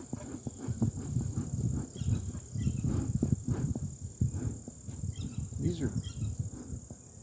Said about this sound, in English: Bees are not really happy to see me that much.